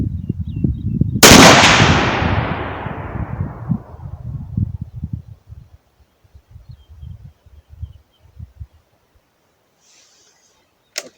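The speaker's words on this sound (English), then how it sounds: "So enough talking. Let's do some shooting." A single loud rifle shot at an outdoor shooting range, sharp and close, its report rolling away into a long fading echo, followed by faint shuffling and small handling noises.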